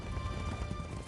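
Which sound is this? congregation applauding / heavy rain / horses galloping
horses galloping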